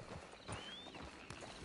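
Horse hooves clip-clop at a walk in Red Dead Redemption 2, a few soft, uneven strikes set among light ambient outdoor sound.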